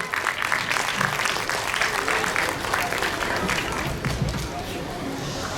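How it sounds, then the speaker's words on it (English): Audience applause at a school spelling bee competition, a steady wash of clapping from many hands lasting several seconds, with some voices mixed in. "Let's clap for them"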